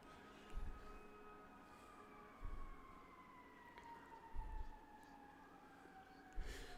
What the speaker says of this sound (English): Shoot, when you hear sirens now,